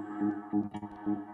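A Molekular morpher synthesizer tone with heavy echo pulses in three buzzy, repeating swells with a brief bright flicker between, loud and alone.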